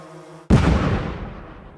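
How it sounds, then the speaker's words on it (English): A drone strike on a Russian Buk M1 air defense system sets off one sudden, loud explosion after a brief quieter lead-in, its boom decaying into a long rumbling tail. "And then there is an explosion."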